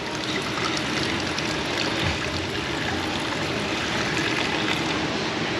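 Blue coolant spilling while a Toyota 1.8 engine is refilled, a steady splashing, trickling pour of liquid heard close and continuous.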